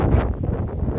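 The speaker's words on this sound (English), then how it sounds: "It's fucking windy up here." Strong wind buffets a microphone on a hilltop, a loud, steady low rumble with gusty surges filling the whole moment, no other sounds standing out.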